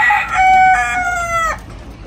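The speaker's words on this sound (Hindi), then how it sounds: "इसमें से दो मुर्गी लेने हैं" A rooster crows one long, loud cock-a-doodle-doo at close range among chickens for sale at a pet market in Madina, its strained call rising and then breaking off abruptly.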